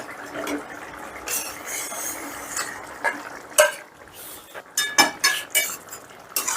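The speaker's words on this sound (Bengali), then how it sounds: "এবার বেগুনটাও ডালের সাথে বেশ ভালো করে মিশিয়ে দেব।" Fried eggplant is stirred into mung dal in a pot, and a metal spoon scrapes and clinks against the pot in irregular taps that grow louder and more frequent toward the end, with no talk.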